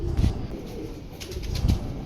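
Pigeons with brick-coloured shoulders coo in a loft, two soft low bursts about a second and a half apart, with faint background noise between them.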